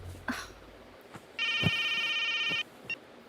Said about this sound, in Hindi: सुनिए जी, फोन बज रहा है।